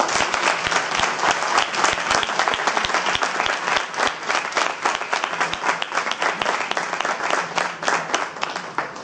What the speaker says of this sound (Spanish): vamos a despedir esta mesa redonda con un fuerte aplauso